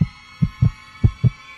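Heartbeat sound effect of a pounding heart: five heavy, low thumps arriving in quick uneven pairs, loud and close, over a steady background hum.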